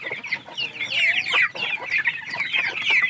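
Broiler chickens about 45 days old cluck and chatter steadily in a close, busy flock, with overlapping soft calls and no talking.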